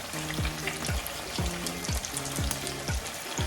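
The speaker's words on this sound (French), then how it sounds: "Et on fait frire de l'autre côté tranquillement." Tuna-filled brick pastry frying in a pan, a close, constant sizzle of hot oil with faint bubbling crackle, no voices.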